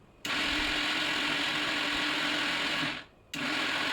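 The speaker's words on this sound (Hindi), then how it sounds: "जब तक तेल गरम हो रहा है तब तक मैं इधर मसाले को ब्लेंड कर ले रही हूँ।" An electric blender grinds masala spices in steady bursts, a loud, dense whirring drone running for about three seconds, cutting out briefly, then starting again.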